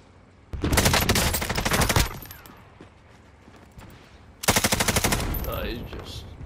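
Loud bursts of automatic gunfire in the Call of Duty Warzone video game, two sustained rapid-fire strings of about a second and a half each, separated by quieter in-game ambience.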